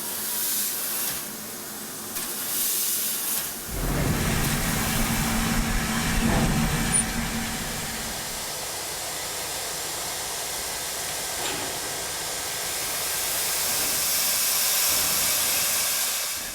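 A steam locomotive hisses steam in a loud, continuous broadband rush that rises and falls over several seconds, then settles into a softer, steady hiss.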